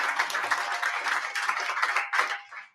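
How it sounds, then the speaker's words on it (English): An audience at an annual celebration applauds board members with a burst of dense, close hand clapping that holds steady for about two seconds, then tapers off and stops. "Please give them an applause."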